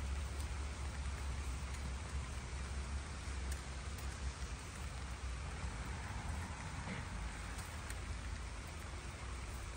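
Steady rain falls over a village garden where a wire chicken run is being built, a dense even hiss throughout with no voices.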